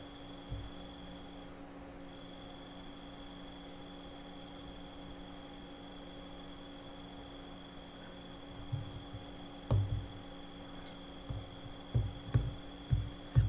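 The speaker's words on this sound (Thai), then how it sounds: "ดาวลุงมีจิ้งหรีดด้วย เออจิ้งหรีดมันมีทั่วจักรวาลแหละนะ" Crickets chirping in a steady, rapid high trill throughout, with some low thumps and handling noises growing near the end.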